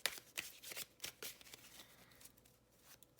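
Oracle card deck being shuffled by hand, quick papery riffles and soft card slaps in a rapid run, close but quiet.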